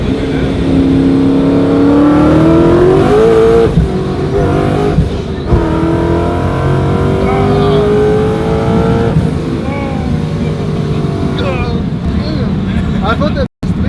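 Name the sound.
Ford Mustang with loud exhaust accelerating in third gear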